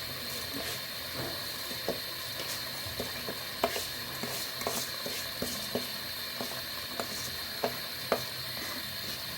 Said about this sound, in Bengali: আবার হচ্ছে আমি চাউলগুলো দিয়ে দিচ্ছি।